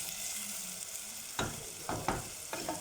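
Food browning in a hot pan on a gas stove for homemade lasagna, with a steady sizzle and several sharp scraping stirs in the second half, close and quiet, no voices.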